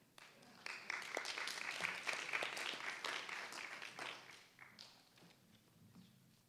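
An audience at a community gathering on race claps for emerging youth leaders, a moderate round of applause that swells after a quiet start and then gradually thins out.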